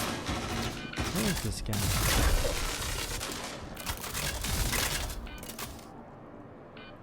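A shotgun fires in the Star Citizen video game: a few loud, booming blasts and bursts of gunfire amid crashing combat noise, with someone talking over the action.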